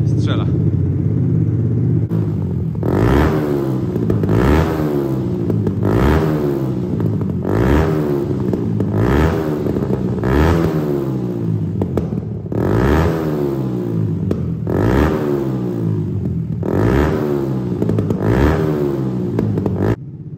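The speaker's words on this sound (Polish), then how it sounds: "I poczekajcie chwilę, aż się motor rozgrzeje. Pokażę wam, jak to fajnie strzela." A 2011 Yamaha YZF R125 motorcycle engine revs up and down repeatedly in a steady rhythm of about eight rising bursts with crackling pops, loud and close, with no talk over it.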